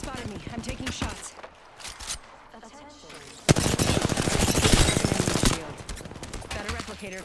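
Gunfire in an Apex Legends battle royale match: rapid bursts of shots, loudest and densest in the middle stretch, with a player talking over the game sound throughout.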